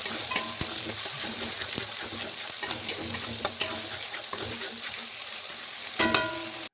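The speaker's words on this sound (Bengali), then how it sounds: "যে মশলাটা আমি পেস্ট করে রেখেছিলাম সেই মশলাটা দিয়ে দেবো। দিয়ে ভালো করে আমি নাড়িয়ে চাড়িয়ে নেব" A spice paste with onions in oil sizzles steadily while a utensil stirs and scrapes, giving irregular knocks and clatters against the pan throughout.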